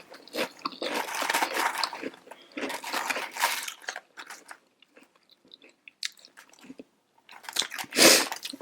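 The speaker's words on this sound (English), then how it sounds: "My son started helping me eat my chips" Someone eating spicy chips up close, loud bursts of crunching and chewing in several bouts separated by quieter pauses, with a final sharp crunch near the end; no talking.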